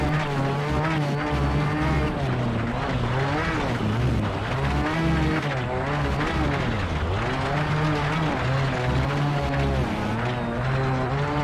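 A Super 1600 rally car engine in the video game WRC: Rally Evolved, at a rallycross event, screaming at high revs, its whine climbing and dipping as it strains before upshifts, loud and continuous throughout.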